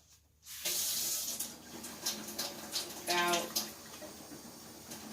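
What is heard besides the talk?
water being poured into a container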